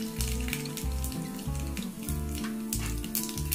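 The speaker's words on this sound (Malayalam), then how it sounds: "ഇനി നമുക്ക് ഇതിനകത്തേക്ക് നമ്മുടെ കടുക് ഇട്ട് കൊടുക്കാം കേട്ടോ" Mustard seeds splutter in hot oil for tomato rice, with quick crackling pops over a bright sizzle, and steady tonal music plays underneath.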